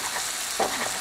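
A vegetable and wild duck stew with minced meat cooks over medium heat, giving a steady soft sizzle with a brief stirring scrape in the middle.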